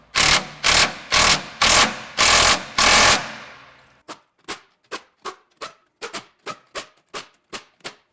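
Impact wrench tightening bolts on a third-generation Tacoma's rear suspension, first several long loud hammering bursts, then a run of short sharp rattling taps, close up.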